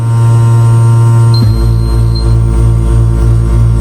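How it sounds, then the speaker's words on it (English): A loud, steady mechanical hum drones throughout, shifting into a pulsing, rhythmic throb partway through as a phone case press's vacuum pump kicks on close by. "You can hear the vacuum."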